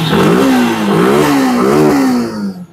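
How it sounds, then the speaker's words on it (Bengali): Suzuki Gixxer SF E20 variant, a secondhand sports motorcycle in good condition, revving up and down at close range, loud and continuous, with the engine note rising and falling repeatedly before cutting off. "জিক্সার এসএফ E20 ভেরিয়েন্ট আছে। হ্যাঁ, এটা একবার স্টার্ট করি।"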